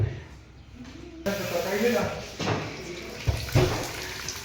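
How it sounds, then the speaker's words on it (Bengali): Chopped onion dropped into hot oil in a home kitchen, starting with a sudden loud hiss and sizzle that carries on steadily, with someone talking over it. "আমাদের পেঁয়াজ কুচিটা ছেড়ে দেওয়া হচ্ছে"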